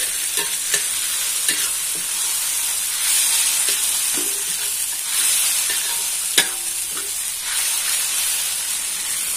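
Loud, continuous sizzling and hissing from water spinach frying in a hot wok over moderate heat, with scattered scraping and clanking as it is stirred.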